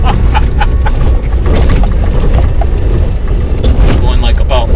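A 2010 Ford F150 pickup driving over a bumpy road gives a loud, continuous rumble with jolts and rattles from the cabin throughout.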